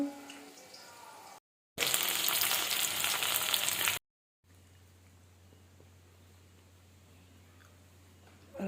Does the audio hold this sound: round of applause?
no